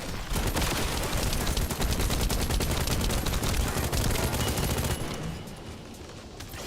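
Sustained rapid gunfire from The First Descendant, a loud, continuous automatic stream of close shots that holds steady for about five seconds before cutting off to quieter background.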